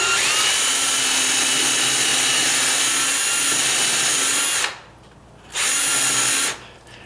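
Power drill boring into a wooden door frame for a deadbolt strike plate, a loud steady whine that runs continuously, stops briefly, restarts for about a second, then cuts off again.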